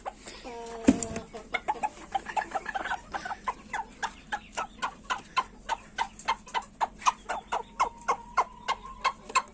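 A hen in a coop clucks in a steady, close run of short rhythmic clucks that continue for several seconds, with a brief voice near the start.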